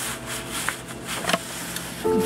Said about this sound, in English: Then begin to rub your candle over the paper